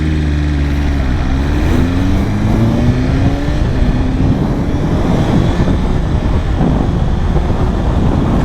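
2024 BMW S1000RR superbike at speed, with quick-shifted gear changes stepping the engine note up and down under constant loud wind rush.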